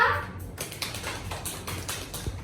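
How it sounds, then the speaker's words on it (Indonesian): A classroom of children claps for a student, giving a quick, dense patter of small hands that sounds fairly close and runs steadily for a couple of seconds. "Beri aplaus untuk Mbak Nisa."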